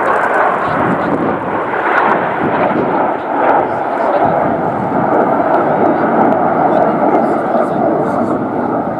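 Red Arrows RAF jets flying in formation at the Cosford air show produce a loud, continuous roaring rumble overhead, with a commentator talking throughout.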